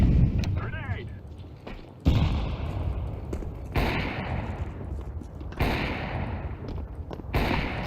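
Grenade blasts in the Counter-Strike 2 game, several heavy booming thuds at intervals with rumbling tails over a noisy background, while a voice speaks briefly early on.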